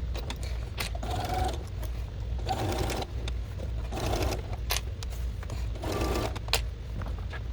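A sewing machine hems a Boo costume from Monsters, Inc. in several short bursts of whirring stitching separated by pauses, over a low steady hum.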